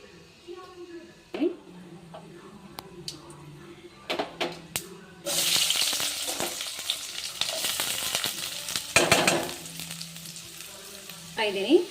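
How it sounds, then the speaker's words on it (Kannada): Mustard seeds and cumin frying in hot oil for a bean palya, a sizzling hiss that swells after a few clatters and stirs, with someone talking over it. "ಎಣ್ಣೆ ಹಾಕಿದ್ದೀನಿ, ಸಾಸಿವೆ ಜೀರಿಗೆ ಹಾಕ್ತಾ ಇದ್ದೀನಿ"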